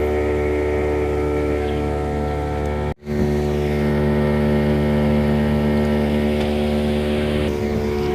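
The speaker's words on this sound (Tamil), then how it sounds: "கிட்டத்தட்ட ஒரு 1 ஹவராக போட் ட்ராவல் தான் பண்ணிகிட்ருக்கோம்" Engine drone of a jet ski boat riding on a river at Bentota: a steady, loud motor hum with a strong tonal whine, one brief dropout near the middle, with no talk.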